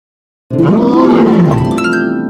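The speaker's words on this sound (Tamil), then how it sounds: "புலி உர் உர் என உருமும்." A tiger lets out a single loud, close roar, a rough growling bellow that swells and then trails into a higher rasping tail, heard alone without speech.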